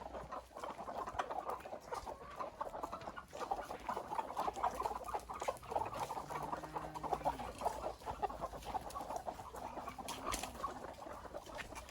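Hens on a poultry farm cluck softly and intermittently over a busy, pattering background of movement, faint and somewhat distant, with no one speaking.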